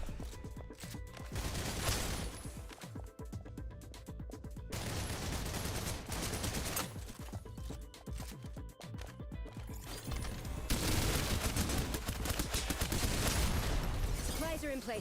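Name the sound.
gunfire from the video game Tower of Fantasy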